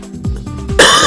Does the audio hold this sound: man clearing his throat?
yes